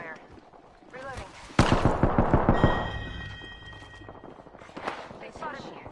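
A burst of roughly a dozen evenly spaced gunshots in a video game fires in quick rhythm, loud at first and fading, with a voice speaking before and after.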